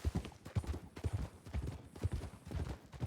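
Horse hooves clip-clop in a steady, rhythmic gait in the Red Dead-based game WildRP, loud and close throughout, with no talking over them.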